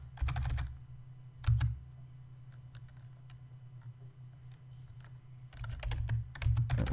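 Bursts of rapid keystrokes on a computer keyboard as a Linux terminal command is typed, a dense flurry at the start, a short burst near two seconds, sparse single taps, then another fast run at the end, close and quiet.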